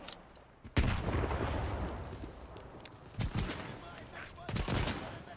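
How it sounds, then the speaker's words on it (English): A grenade explodes in the video game Stalker 2. One sharp, heavy blast comes early, followed by a rumbling tail and a couple of later gunfire-like bangs amid ongoing combat noise. "Bastard throwing a fucking grenade at me."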